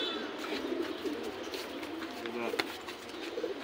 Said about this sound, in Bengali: এই যে কবুতরটা আমি নিলাম